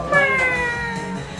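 A male cat lets out a drawn-out, whining meow close by, loud and clear with no talking over it.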